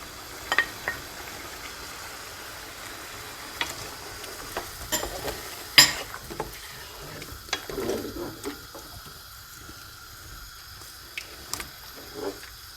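Chicken frying in a pot with cooked tomatoes and chopped coriander, a soft sizzle under repeated scraping and stirring clicks of a utensil, close by with no voices.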